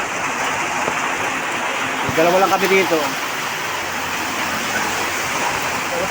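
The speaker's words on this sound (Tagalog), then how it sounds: "Oh, lakas ng ulan, no?" Heavy rain pours down steadily in a dense, continuous hiss that fills the whole scene. Someone speaks briefly partway through, his voice sitting under the roar of the downpour.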